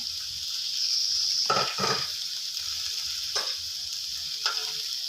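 Onion and blended chili stir-fried in a hot pan for chicken kaphrao, a steady close sizzle with a few scraping stirs of a utensil against the pan, no voices.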